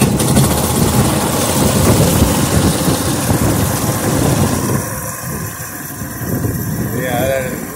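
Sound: DC generator engine running

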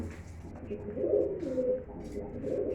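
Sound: female Oman Teddy pigeon cooing

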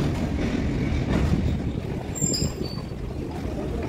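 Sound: freight train engine pulling coal wagons

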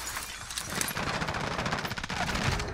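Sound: gunfire in the video game Call of Duty Warzone

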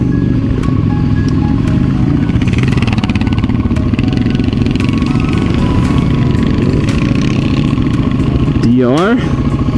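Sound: dual sport motorcycle riding past

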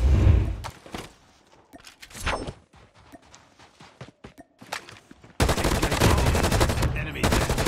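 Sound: light machine gun firing in video game COD Mobile

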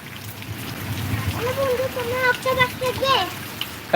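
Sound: rain falling

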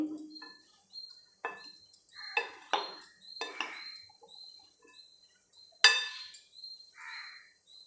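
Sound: mixing cauliflower masala in a bowl

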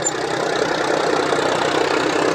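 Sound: tractor engine running

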